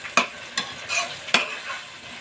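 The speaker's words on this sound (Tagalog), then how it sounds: "I-mix ng mabuti." Ground pork stirred in a sizzling pan: a spoon scrapes and knocks against the pan three or four times over a steady close frying hiss.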